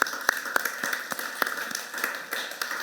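Scattered claps ring out from a small church congregation during a Sunday service, uneven and sparse, with sharp individual hand claps standing out over a faint murmur.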